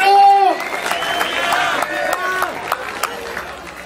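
An audience at a rap battle quarterfinal breaks into applause and cheering, a crowd roar with scattered claps, while a voice shouts over the noise.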